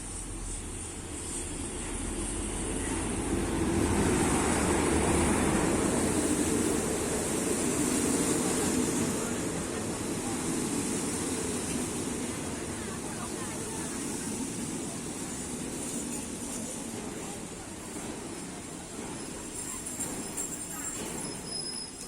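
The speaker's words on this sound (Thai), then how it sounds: "รถไฟมาแล้วนะคะ เพื่อนๆ" A heavy, low rumble builds and lingers for the whole stretch, peaking early then easing slightly, as a train arrives at Pak Chong railway station, Nakhon Ratchasima, Thailand, with faint voices around.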